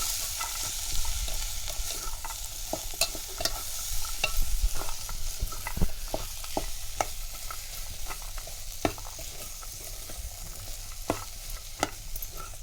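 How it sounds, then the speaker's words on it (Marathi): Chunks of eggplant, potato and val beans are stirred and fried in spice masala for a Konkan wedding-style curry, a steady sizzle with frequent sharp scrapes and knocks of the spoon against the pan, close and with no talking. "आता आपण ही भाजी टाकून सगळं मस्तपैकी छान असं परतवून घेऊया"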